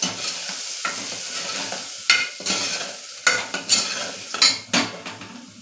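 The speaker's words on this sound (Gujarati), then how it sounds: "બધા મસાલા એડ કરી અને બરાબર મિક્સ કરી લઈશ." Spices being stirred into a mixed lentil and rice bhaidku in a pot, soft sizzling under repeated scraping strokes of a metal spoon, several distinct clinks and scrapes in an irregular rhythm, close and clear, no voices.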